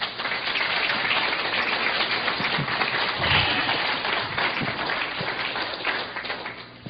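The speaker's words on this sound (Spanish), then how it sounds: "Den un aplauso fuerte al Señor." A church congregation applauding during a Spanish-language sermon, a steady wash of clapping that sounds almost like rain, sustained for about seven seconds at moderate loudness.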